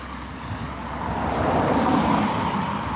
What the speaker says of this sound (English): I do apologise about the noise of the traffic